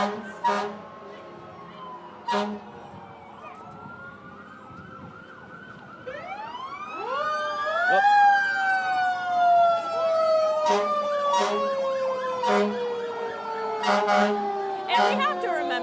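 Volunteer fire department trucks roll past in a small-town Christmas parade, their sirens wailing and sweeping up and down, rising to a loud close pass with horn-like blasts, over crowd chatter and a commentator talking.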